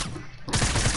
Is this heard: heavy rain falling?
no